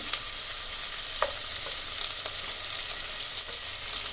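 Cinnamon bark and star anise sizzle steadily in hot oil for a mutton curry and bhagara rice, a constant close hiss with a few faint pops and stirring scrapes.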